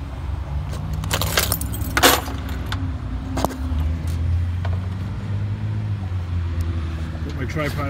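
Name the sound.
car keys jangling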